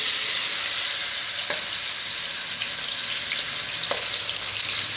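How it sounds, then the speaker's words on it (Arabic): Marinated shawarma meat sizzles loudly in a pan over a gas flame, a dense, continuous hiss with a couple of faint clinks from stirring. "هلا بدنا نحط هاي اللي تبلناها لحمة بدنا نحطها على الغاز."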